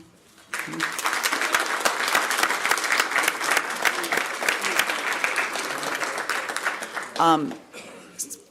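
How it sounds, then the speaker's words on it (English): A high school event audience gives the community a sustained round of applause, dense clapping lasting about seven seconds before tapering off, with a voice briefly audible near the end. "we recognize and thank the community with at least a round of applause right now"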